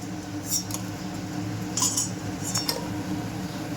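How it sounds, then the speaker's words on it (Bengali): Fried prawn fritters lifted out of a pan with a metal utensil, several sharp clinks and scrapes over a low steady sizzle, nearby, with no talking. "এবার আমি প্রত্যেকটা বড়া তুলে নিচ্ছি"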